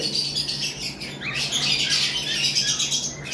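A lovebird, about eleven to twelve months old, gives sharp, close squawks and chirps in a quick series against a low background hum.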